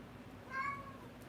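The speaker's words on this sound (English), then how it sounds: "love the little meows in the background, Jory." A cat meows once in the background, a short, faint, rising call behind a steady low hum of room noise.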